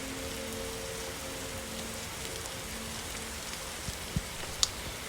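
Steady rain falls in the video game 99 Nights in the Forest, a constant, fairly loud hiss of drops on surfaces with a few sharp taps near the end and no voices.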